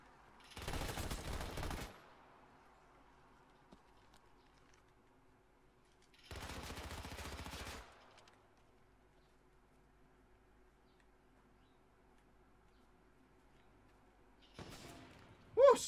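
Sniper fire in the video game H1Z1 comes as two separate loud, crackling bursts a few seconds apart, with a quiet gap between them, then a sharper third burst right at the end.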